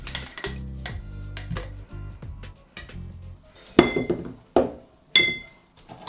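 Metal cocktail shaker tins, just shaken with ice for a Screwball cocktail, are banged apart: a few sharp metallic clanks and clinks stand out near the end, preceded by softer rattling and handling sounds, close and loud with no talking.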